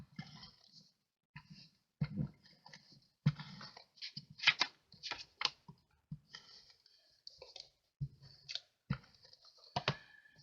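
Scissors snipping designer series paper for a floral anniversary card, giving close, crisp clicks and rustly cuts in irregular bursts with short pauses, no talking.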